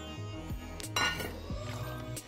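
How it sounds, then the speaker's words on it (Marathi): Jaggery tipped into a metal cooking pot for a tamarind summer drink, giving a few faint clinks and knocks against the vessel with a soft shifting sound, close by and quiet, with no talking. "हा गूळ आपण आता या भांड्यामध्ये टाकून घेऊया."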